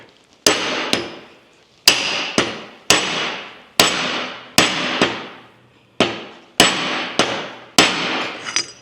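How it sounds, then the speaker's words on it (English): Repeated sharp metallic hammer blows on a pipe seating a bearing on a Scout Dana 44 rear axle, roughly ten strikes in an uneven rhythm, each ringing briefly before the next, loud and close. "Got this little pipe here that's just the right size. I'm going to hit it with a hammer."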